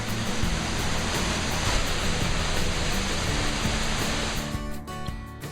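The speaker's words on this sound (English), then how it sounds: "a waterfall" Steady broadband rush of a waterfall at a natural attraction in Vietnam, loud and continuous, easing slightly near the end.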